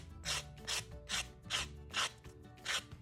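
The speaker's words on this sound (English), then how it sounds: "Just trying to make sure that you get everything sanded really well." Small wooden earrings are sanded by hand, giving about seven regular back-and-forth rasping strokes, close and clear, with no voices.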